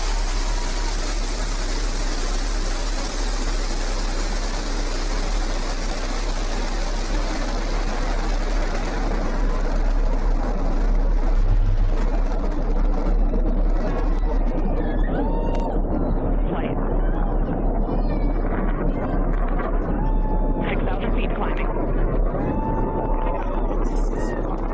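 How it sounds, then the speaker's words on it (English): Blue Origin New Shepard rocket at liftoff, a broad continuous engine roar that stays loud throughout, thinning slightly toward the end, with faint voices over it. "Liftoff. New Shepard has cleared the tower."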